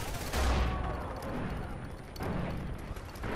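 Grenade explosions in Far Cry 4, a dense run of loud booming blasts with a big burst near the start and another surge later, crackling gunfire-like debris continuing throughout.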